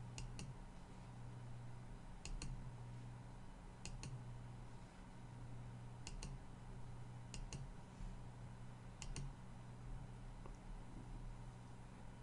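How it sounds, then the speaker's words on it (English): Pairs of sharp mouse clicks while working in the NEC UC Desktop Suite web client, repeating every second or two over a steady low hum in a quiet office. "A couple mouse clicks lets everyone know she is back in the office."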